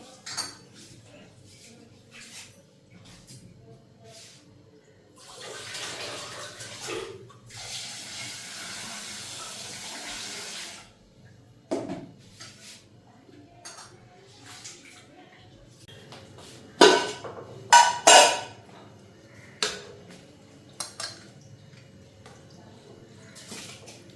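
Pointed gourds being washed in a pot of water, with splashing, clattering pot and utensil knocks, and a stretch of running water from a tap, close by and intermittent.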